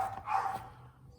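A single short dog bark, moderately loud and a little distant, outdoors at a Jamaican yard garden with lime trees, followed by quiet background.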